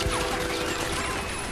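Rapid bursts of gunfire from soldiers raiding a house in the film Inglourious Basterds crackle in a dense, noisy barrage, with clattering impacts and chaotic background noise throughout.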